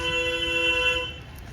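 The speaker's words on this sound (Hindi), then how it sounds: "यहाँ पे ना अजीब अजीब किस्म के प्यारे प्यारे हॉर्न हमें सुनने को मिलेंगे" A vehicle horn sounding near old temples, one sustained tonal honk of about a second that then cuts off, close and loud over low background rumble.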